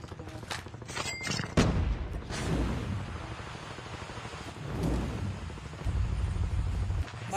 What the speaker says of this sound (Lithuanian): Jie čia su kažko šaudo